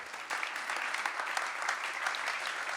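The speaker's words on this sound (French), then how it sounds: "On peut les applaudir très fort." Steady applause from an audience, a dense patter of many hands clapping continuously throughout.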